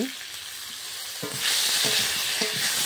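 Potatoes already fried with turmeric and salt, now joined by chopped tomato, sizzle steadily in a pan while a utensil stirs them in a few distinct scraping strokes, the hiss growing louder partway through; no voices.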